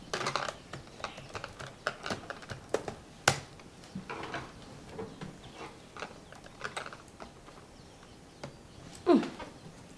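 Someone types a password on a computer keyboard in a TV drama scene, with scattered light clicks and taps at an uneven pace, close by and fairly quiet.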